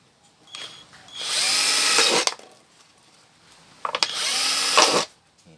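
A power drill bores into a plastic soda bottle in two separate bursts about a second each, a bright whining grind with a quiet pause between them.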